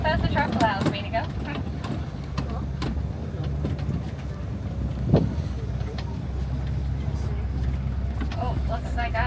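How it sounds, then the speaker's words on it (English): A safari truck drives along a dirt route at Disney's Animal Kingdom, with steady engine and road rumble, bumps and rattles throughout, and a voice talking over it. "We're going to try and just zoom on around, at least as fast as the truck allows me to go."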